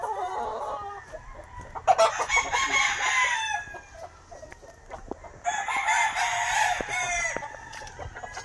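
A white kelso gamefowl rooster with yellow legs crows twice at a game farm, each long crow rising and trailing off, with short clucks and scattered farmyard sounds in between.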